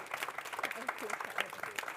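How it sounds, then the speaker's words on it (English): Audience applause at the end of a conference panel on the World Bank Inspection Panel, a thin scattered clatter of claps mixed with voices talking over it throughout. "could we give them a round of applause?"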